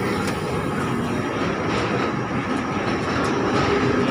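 Train running through a Mumbai railway station, a steady loud rumble of wheels and carriages with faint rail clatter, continuous and close throughout with no talking.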